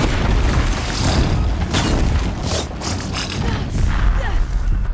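Explosions from enemy launchers in Horizon Zero Dawn, played on very hard difficulty, rumble as a dense continuous boom with several louder bursts spread across the clip, loud and close.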